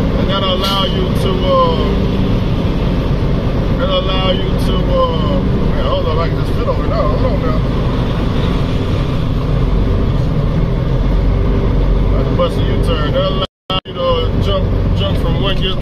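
A 1997 Freightliner Classic XL with a 12.7 Detroit 60 Series engine and 13-speed transmission drones steadily from inside the cab as it revs through the gears, loud and continuous, with someone talking over it and a brief cut near the end.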